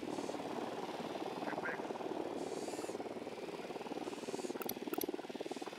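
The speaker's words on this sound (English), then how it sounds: "Drone is airborne." A drone flies in the video game Ghost Recon Wildlands, its steady rotor buzz and whine droning on continuously throughout, with a few brief high clicks and beeps over the top.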